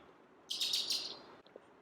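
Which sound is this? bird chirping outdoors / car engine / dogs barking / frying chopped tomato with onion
bird chirping outdoors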